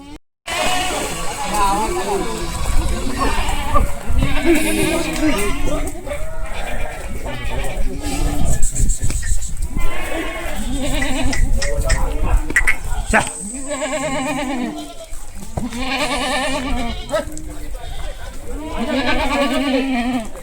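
Kathewadi goats bleat repeatedly in a series of loud, nasal calls close by, with people talking over and between them and a brief laugh.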